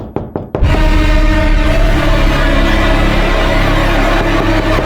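Three sharp knocks on a door at night, loud and close, quickly followed by a steady swell of dramatic background music with a low droning hum.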